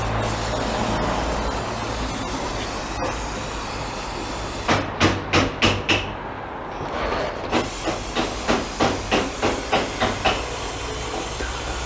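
A steady hiss of compressed air blowing dust from an Arora Max-T scooter's drive belt during servicing, then a series of sharp, regular puffing bursts, close and loud, repeating about twice a second.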